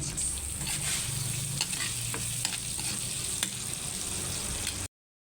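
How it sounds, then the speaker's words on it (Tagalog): Ginger sizzles and fries steadily in leftover oil in a pan, being stirred now and then, with a dense continuous crackle that runs close and loud for about five seconds before cutting off. "Lagay ko yung luya sa aking pinagprituhan para less hugas."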